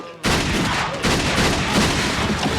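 Gunshots in a Jean-Claude Van Damme action movie scene: dense, loud, continuous crackling gunfire with booming low end that fills the whole stretch without a break.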